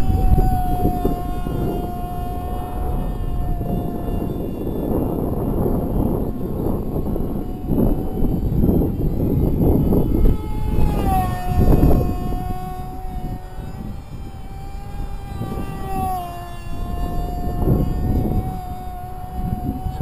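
A model airplane with an AP .061 engine and tuned pipe flies overhead, its thin, steady high-pitched whine shifting in pitch as it passes. Continuous and fairly distant over outdoor background noise.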